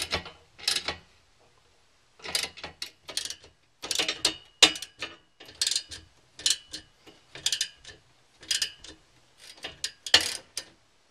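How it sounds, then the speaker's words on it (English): A hand ratchet tightens bolts on a side rack for a Jeep JK Unlimited, giving close, crisp bursts of rapid clicking, about a dozen short runs separated by brief pauses. "we'll tighten down just a few of these bolts to hold it in place"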